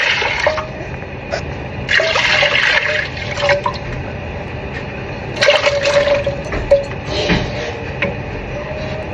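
Coconut milk pours for Jamaican pumpkin rice, a liquid splashing and glugging in bursts over several seconds with short pauses, close and fairly loud, with no talking.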